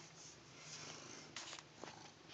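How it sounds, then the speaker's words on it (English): A cat purring while sitting in a bath, a soft continuous rumbling purr with a few brief louder splashes or movements, heard close and alone without talk. "Yeah, look at you purring."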